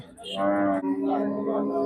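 A cow moos once, a fairly close, drawn-out low call at a busy cattle market, with faint background murmur.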